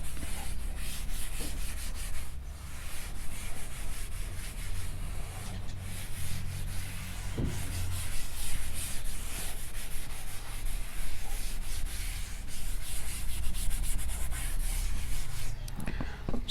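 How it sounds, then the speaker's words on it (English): An eraser rubs a board to wipe off a drawn figure in a classroom lecture, a continuous scratchy back-and-forth scrubbing close up, steady and fairly loud, with no talking. "I don't need now this figure. I shall rub it."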